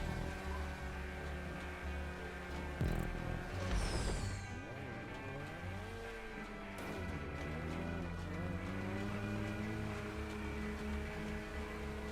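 Small cars race in GTA 5 Online, with one car crawling along slowly, its engine giving a steady humming drone that rises and falls in pitch as it revs, alongside other game sounds, with no talking.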